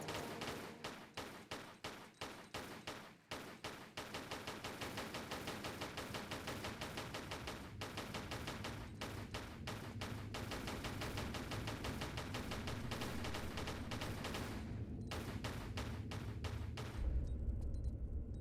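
Pistol gunfire aimed at bats in Tomb Raider: The Last Revelation, a rapid, steady stream of sharp shots that runs on with a few brief pauses and no voices over it.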